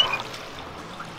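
Water pours and trickles steadily from a red water pump at a pumpkin patch duck-race game, a soft continuous splashing stream heard up close with no talk.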